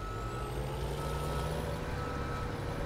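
Truck in Farming Simulator 17 backing up, a steady stream of reversing beeps over a constant low engine rumble, close and even in level throughout with no speech.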